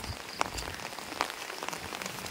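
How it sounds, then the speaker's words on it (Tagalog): Heavy, steady rain pours down in a low-lying flood-prone town along a highway, a dense continuous hiss with a few sharper drop impacts and no voices. "Talagang pag ganitong ulan nga dire-diretso"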